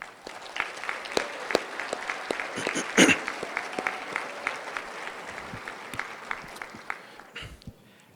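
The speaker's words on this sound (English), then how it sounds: "give the 8th graders a round of applause" Parents and teachers applaud the 8th graders at a promotion ceremony. The clapping is scattered and moderate, with distinct individual claps standing out, one sharp loud clap midway, and a fade toward the end.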